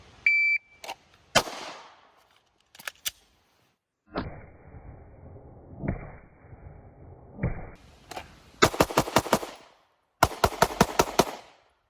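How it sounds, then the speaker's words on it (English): Shots from a ZEV OZ9C Hyper Comp V2 pistol, loud and sharp: a few scattered single shots, then rapid strings of evenly spaced reports near the end, with a rumbling stretch of range noise in between. "I don't think I've ever felt a gun that shoots this well."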